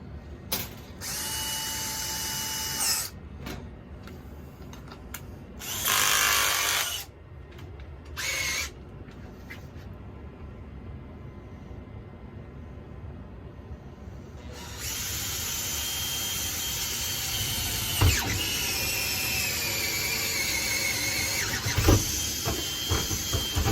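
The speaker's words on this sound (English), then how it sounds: "once I get that drilled, then I need to break it through there" Power drill boring a hole during a home kegerator build, with several short bursts of whirring and squealing at the start, then a longer steady run of drilling over faint background clatter.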